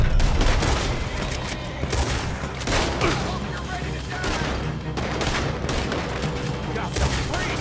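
Rapid, dense gunfire crackles through a shootout in Red Dead Redemption 2, volleys of shots overlapping continuously and loudly, with faint voices mixed in.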